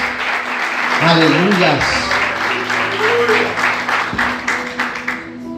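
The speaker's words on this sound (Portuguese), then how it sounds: "Desocupa a sua mão, aplauda Jesus com alegria." A church congregation applauds in steady, sustained clapping throughout, while a voice shouts praise over it and music plays beneath.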